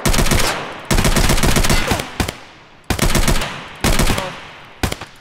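Automatic AK-74 fire in the video game Escape From Tarkov, with several loud, rapid bursts separated by short pauses and trailing echoes.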